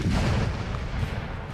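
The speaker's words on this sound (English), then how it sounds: "We've also got some artillery fire. Bard's deployed his 6-pounders." Rumbling cannon fire from deployed 6-pounder artillery in the Napoleonic-era strategy game Napoleon Total War, a dense continuous low boom of battle with no distinct separate shots.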